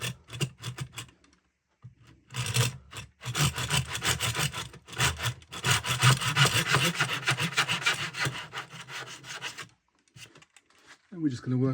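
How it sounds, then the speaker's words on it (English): A small hand saw makes a starting cut in wood along a knifed line for the soundboard rebate of a 7-string lyre, with close rasping strokes in bursts separated by brief pauses. "I like to saw with a small saw first to make a starting cut"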